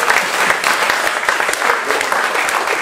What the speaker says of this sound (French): C'est pas grave, un peu d'applaudissements,